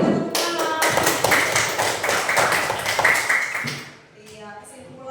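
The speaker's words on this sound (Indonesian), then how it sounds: "Beri tepuk tangan" Classroom applause from students clapping together for several seconds, dense and fairly loud, tapering off near the end as a voice resumes faintly.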